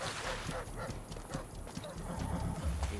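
Horse hooves clip-clop in the Assassin's Creed: Brotherhood video game as a rider mounts and sets off, a quick steady trot heard under game audio.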